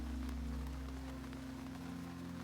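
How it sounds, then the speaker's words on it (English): Soft, steady rain patters continuously on a surface, a gentle even wash of drops under a low background hum, with no voices. "The rain is falling soft and fat and golden in the early light"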